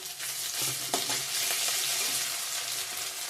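Ginger frying in hot oil with cumin seeds, ahead of a mustard-tomato paste for a rohu fish curry, giving a steady, close sizzle with a few small pops and stirring sounds throughout.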